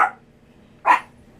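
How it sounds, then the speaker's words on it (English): A dog barks twice, close and loud, with one sharp bark at the start and a second about a second later, and quiet in between. "That was my dog."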